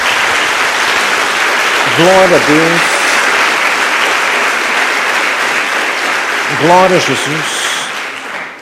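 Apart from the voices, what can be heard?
church congregation applauding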